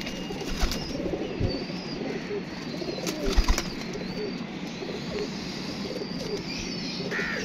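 Pigeons coo in a backyard loft, soft low repeated calls under a steady bed of chirping and outdoor ambience, with a few brief wing flaps or thumps.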